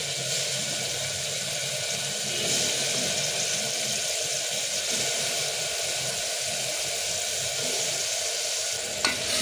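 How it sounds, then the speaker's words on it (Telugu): Soaked Mysore dal tipped into a hot pan, a loud, continuous broadband sizzle and frying hiss with stirring that holds steady for several seconds, ending with a brief clank near the end. "నానబెట్టి పెట్టుకున్న మైసూర్పప్పుని దీంట్లో వేసేసుకుందాం."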